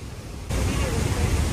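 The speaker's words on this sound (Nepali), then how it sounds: "यो पानी सुसाएको आवाज अनि तलबाट आएको पानीको बाफ, हावा" Devi's Fall waterfall in Pokhara gives a broad, roaring rush of water. A softer hiss swells abruptly into a loud, steady, full-bodied roar heard close up.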